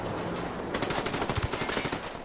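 Automatic gunfire in the video game Ghost Recon Wildlands, a quick burst of rapid shots following quieter rumbling, fairly loud, with no speech.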